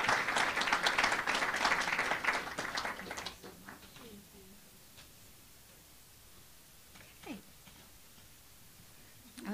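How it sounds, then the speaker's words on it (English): Applause rises from an audience at an alumni and student awards ceremony, loud and dense for a few seconds, then fading to scattered claps and room noise. "Please, let's give her a round of applause if she comes up."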